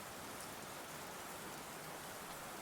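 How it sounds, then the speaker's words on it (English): Heavy downpour pours steadily outdoors, a dense, loud hiss of rain with no breaks or variation throughout, no voices. "Rain ambience directly in my ears."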